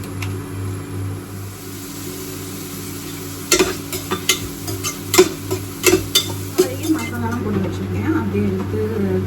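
Masala frying in oil in a home kitchen, a steady sizzle under a string of sharp scraping clacks as a spoon stirs the pan, with someone talking over it.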